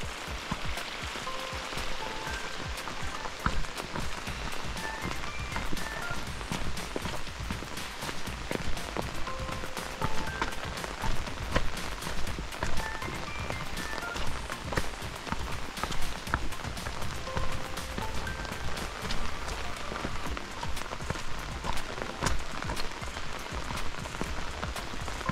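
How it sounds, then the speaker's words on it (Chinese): Heavy rain pours steadily on a hillside hiking trail, a dense, even hiss of drops on the ground and foliage with occasional louder spatters, and no voices. "哇，都幾大雨，雨勢有啲大啊！"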